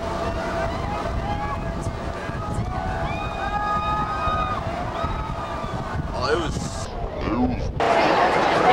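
Strong wind buffeting a microphone at an outdoor football setting, a continuous loud rumbling roar with gusts that swell near the end, voices faintly audible underneath.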